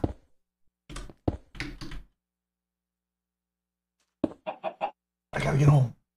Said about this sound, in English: Chicken, shh, quiet.